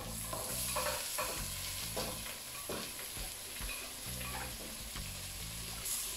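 Leek and peppers frying in a pan for octopus rice, a steady sizzle broken by repeated scraping stirs of a utensil, close and fairly quiet with no talk.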